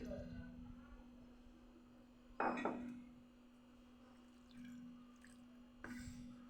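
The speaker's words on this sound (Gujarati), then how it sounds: "અડધી વાટકી જેટલું પાણી નાખી દેજો" Water is poured into yogurt batter for steamed dhokla in a quiet kitchen, giving a soft splash with faint trickling and dripping and a low steady hum underneath.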